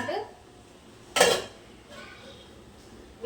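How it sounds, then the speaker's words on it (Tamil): A lid is set down on a cooking pot of biryani, giving one sharp metallic clatter near the middle, with faint kitchen clinks and a brief voice at the start. "மூடி போட்டு"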